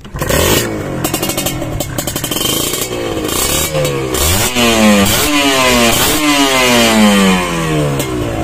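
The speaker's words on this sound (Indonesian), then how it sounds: "Kita coba belayer dulu ya." A Kawasaki Ninja SS motorcycle engine revving repeatedly, pitch rising and falling through several loud throttle bursts, close by with a rattling idle underneath.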